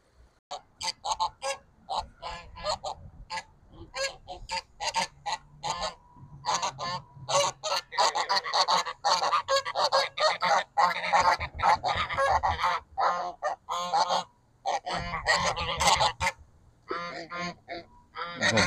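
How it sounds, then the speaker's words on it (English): A flock of geese honking repeatedly and loudly, overlapping calls in a chaotic chorus that continues throughout with short pauses. "there goes geese"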